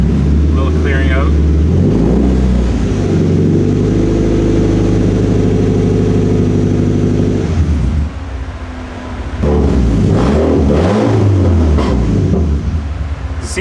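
An engine revs on its first start after a rough, shaky low idle, the steady drone rising and falling with a short dip midway, under nearby speech.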